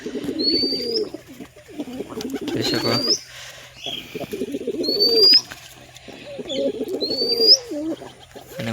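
Pigeons cooing in a loft with chicks and eggs nearby, repeated low rolling coos in a rhythmic series, close and clear, with a few thin chirps and brief wing rustles between them.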